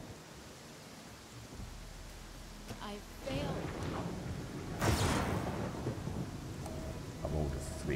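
Heavy rain hisses steadily in Pathfinder: Kingmaker, with a loud thunder crack and rumble breaking through midway, while someone speaks briefly over the storm.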